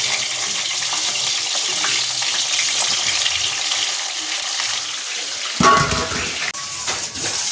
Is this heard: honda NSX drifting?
no